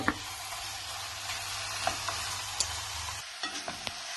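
Pork ribs sizzling in a pan with onion and tomato red masala in Goan cooking, a steady frying hiss with occasional spoon clinks and stirring scrapes, heard close without talk.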